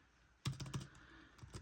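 Typing on a computer keyboard, a quick run of close key clicks followed by a pause and two or three more taps, with no talking over it.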